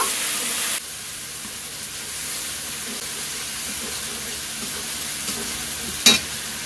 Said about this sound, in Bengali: জিরে আর লঙ্কা বাটা এটা তেলের উপরে দিয়ে দেব। এতে দেব হলুদ গুঁড়ো দিয়ে এবার নেড়ে চেড়ে নেব।